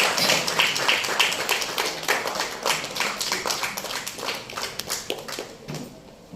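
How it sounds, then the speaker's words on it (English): Applause welcomes a stem cell donor and his parents onto the dais. A moderate round of clapping from a modest crowd, with individual claps audible, fades gradually toward the end. "Please join me in welcoming them with a good round of applause."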